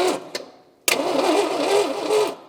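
An abandoned AMC Rebel engine cranking over on its starter with no compression: a couple of short clicks, then a continuous churning whir that runs steadily for over a second before stopping.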